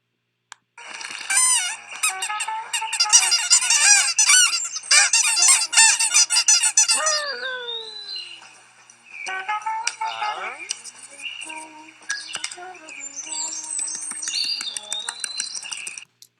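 Cartoon birds from the animated short For the Birds, a dense flock of squeaky chirps and honk-like cries that swell loudly, briefly thin out with rising whistles, then return in busy overlapping chatter.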